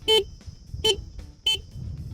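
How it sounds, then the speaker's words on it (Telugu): Horn of a 2025 Honda Hornet 2.0 motorcycle, three short loud beeps in an even rhythm, close by with quiet gaps between, no talk. "అలాగే మనకు హార్న్ ఉంటుంది"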